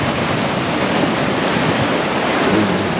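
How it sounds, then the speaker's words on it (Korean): Strong sea waves crash continuously on a windy beach along the Gangneung coast in Gangwon-do, a dense, loud roar of surf mixed with gusty wind buffeting the microphone, with no voices. "파도가 겁나 세게 쳐요"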